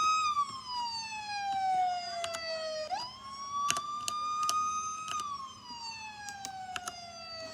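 A video game emergency siren wails loudly throughout, its pitch sliding down and up in long sweeps, with sharp clicks and a low rumble beneath.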